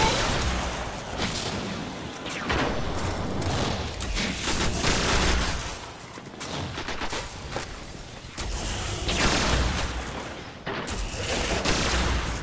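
Dense, continuous gunfire fills the Vault of Glass raid in the video game Destiny, with overlapping bursts, booms and rapid shots sounding loud and close, broken only by brief dips.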